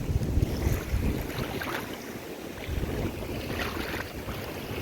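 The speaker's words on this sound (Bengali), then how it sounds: "ঢেউ আসছে দেখুন ঢেউ আসছে" Broad, continuous wash of sea waves and rushing water at Bagda beach, Odisha, with heavy wind buffeting the microphone, no voices.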